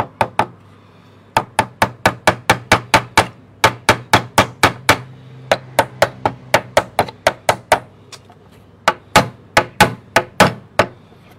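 Nails are hammered into plywood by hand for an onion rack: loud, close, sharp hammer blows come in quick regular bursts of several strikes, with short pauses between runs.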